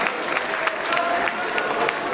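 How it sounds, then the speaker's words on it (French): An audience applauds at a town festival queen election in Aire, with steady crowd clapping, a few sharper hand claps standing out, and cheering mixed in for the whole moment. "On peut l'applaudir très fort."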